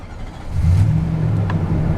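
A 2013 Nissan Titan PRO-4X pickup with the 5.6-liter VK56DE V8 cranks over and catches. It settles into a steady, deep, close engine rumble with no voices.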